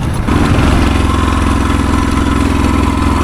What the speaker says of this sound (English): that sounds like a bike with no spark to me